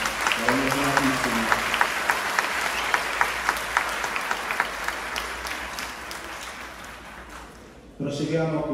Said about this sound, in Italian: Facciamo sentire un bel applauso, Anna.